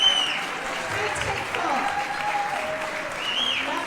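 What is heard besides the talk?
audience applause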